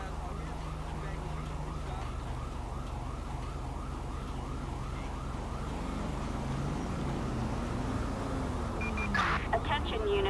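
A police car siren wails steadily with a rising-and-falling tone through a GTA roleplay scene, sitting behind constant engine rumble while people talk over it.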